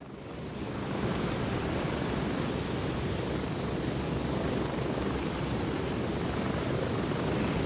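A helicopter in the video game Gray Zone Warfare produces a steady, loud rotor and engine roar that builds in the first second and then holds constant, with no voices over it.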